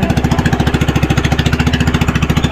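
Vehicle engine running close by with a rapid, even chugging pulse, loud and steady for the whole stretch, with no speech.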